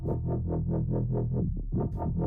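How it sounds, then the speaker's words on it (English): A song mix with heavy delay applied, a rhythmic buzzy pulsing tone repeating about every quarter second with echoing distorted texture, loud and alone without speech. "Now there is too much delay here."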